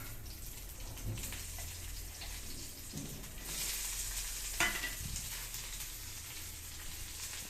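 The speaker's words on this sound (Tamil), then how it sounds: "உள்ளி வதங்குறதுக்கு லேசா மிக்ஸ் பண்ணி கொடுத்துக்கலாம்." Garlic and curry leaves sauté in a pan for an egg curry, a soft, fairly faint sizzle with occasional stirring scrapes and a brief louder clatter midway, no one talking.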